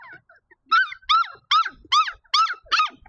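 Five-week-old puppies outdoors for the first time give six evenly spaced high whimpering yelps in quick succession, close and fairly loud, with faint softer squeaks before them.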